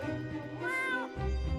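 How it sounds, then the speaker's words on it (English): A cat meowing in the video game Escape from Ever After, one clear drawn-out meow that rises and falls, fairly close, over quiet game background sound. "Hello, kitty cat."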